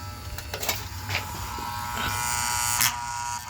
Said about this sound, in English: That noise you heard was the relay in this aquastat.